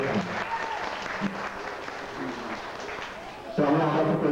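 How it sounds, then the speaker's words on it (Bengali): An audience at an Independence Day and Pohela Boishakh stage event applauds in a steady patter, then a voice begins speaking over it near the end. "হাততালি হবে।"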